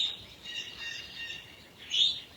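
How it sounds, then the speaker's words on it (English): Birds singing on a sunny spring day around Beltane, high chirps and warbles running through the whole stretch, with a brighter burst of song near the end against a quiet background. "The birds are singing, the sun is shining."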